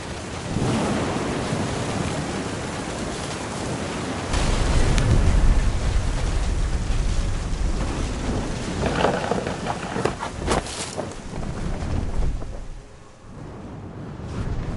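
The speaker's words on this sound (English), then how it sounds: "The thunder sounded much too close and full of angry power" A thunderstorm with heavy rain from the game What Remains of Edith Finch, a loud, dense wash of rain with deep rolling thunder that swells midway and then eases, with no voices.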